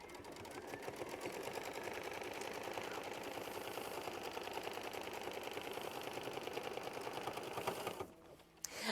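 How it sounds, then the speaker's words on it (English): An embroidery machine tacks a piece of fabric down with a machine stitch for a quilt sampler block, a fast, even mechanical chatter that runs for about eight seconds and then stops. Near and alone, with no speech. "we're going to hit start and tack this piece of fabric down with machine stitch"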